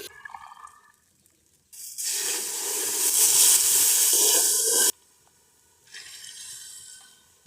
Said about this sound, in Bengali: এবার এর ভিতরে আমরা ফুটন্ত গরম পানি দিয়ে দিব।